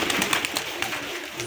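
A pigeon cooing close by in a short run of soft, rhythmic throaty pulses, heard alone with faint background ambience.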